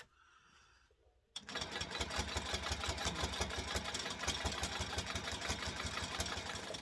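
A sewing machine quilting along a ruler starts after a quiet second and then runs at a steady, fast, continuous hum and rattle, loud and close, with no talking.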